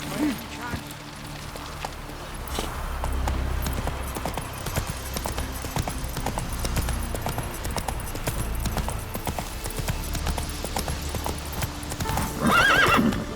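A horse's hooves clip-clop at a steady run through The Witcher 3 game, with a whinny near the end. Spoken game dialogue plays over the hoofbeats.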